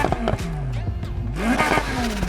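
A Ferrari F40 engine in the video game Need for Speed Heat revs sharply in quick rising and falling bursts, loud and close, with a gear-shift-like pitch sweep near the end.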